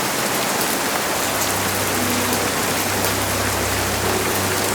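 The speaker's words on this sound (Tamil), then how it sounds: "ஒரு நாள் அந்த ஊரில் இடியோட மழை பெஞ்சது" Steady, dense rain pours down over a town as a storytelling sound effect, a constant loud hiss with no distinct thunderclap standing out.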